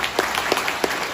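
An audience at an achievers' celebration event in Calicut claps in sharp, distinct bursts, a steady scattered applause heard close and moderately loud.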